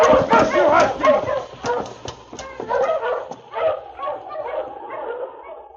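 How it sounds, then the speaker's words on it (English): Husky sled dog team barking and yipping in quick overlapping bursts, with whimpers, loud and close, then settling to scattered yips as a dog team comes to a stop outside a constable's office in the Yukon. "they heard a dog team come to a stop outside"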